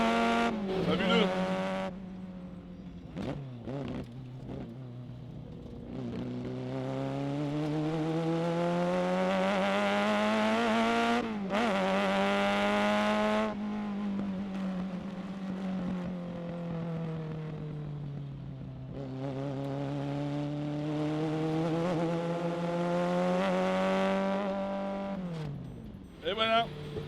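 A Ferrari 308 Group 4 race car lapping the Montlhéry circuit, its engine loud and close throughout, pitch rising and falling through gear changes and long pulls, with brief breaks and lifts between.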